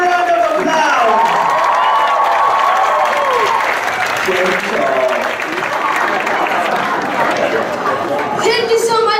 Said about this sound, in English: Come on, give the children a big round of applause.